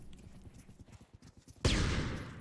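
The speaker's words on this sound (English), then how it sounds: "I know Orikana can hear those footsteps right now." Rapid footsteps from a player in a competitive Pavlov VR match, a quick patter of close treads that gives way to a loud, sharp blast which decays over the final second.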